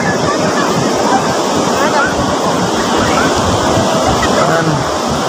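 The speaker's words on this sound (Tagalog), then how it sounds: "Sobrang ano, sobrang lakas ng alon." Heavy ocean surf roars continuously at a stormy beach, a dense, loud wash of crashing waves mixed with wind buffeting the microphone.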